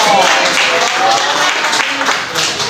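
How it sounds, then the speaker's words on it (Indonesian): Loud, close applause from a small gathering of people, a brief burst of hand clapping with voices mixed in beneath it. "Tepuk tangan dong."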